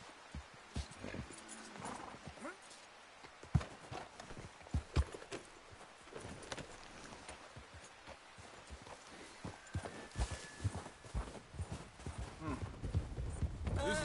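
Horse hooves clip-clop at a steady trot in the Red Dead Redemption western game, blended with wind, background noise and occasional speech.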